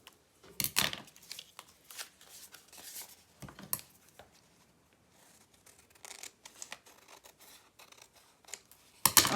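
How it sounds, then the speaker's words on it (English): Scissors cut paper for an art journal in sharp, crisp snips, some in quick bursts and some single, close up with quiet pauses between them and no talking. "So then cut them smaller."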